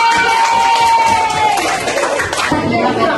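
High school students in a math classroom burst into clapping and cheering, a loud, dense crowd sound with shouts and chatter that holds steady, then thins slightly toward the end.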